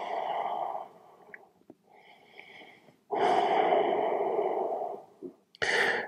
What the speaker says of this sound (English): One more big inhale, slow exhale